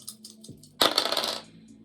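Dice tumble onto a hard surface in a dense burst of rattling clicks after a few lighter taps, settling within about half a second; close and alone, no voices.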